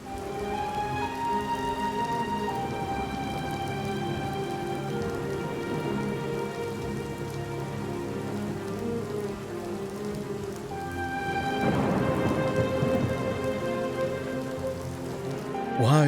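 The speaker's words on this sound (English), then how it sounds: "The rain returned, and with it, my melancholy." Steady rain falling in Leyawiin in the video game Oblivion, a continuous close wash of drops on surfaces with a soft swell later on, alone without voices, thunder not clearly distinct.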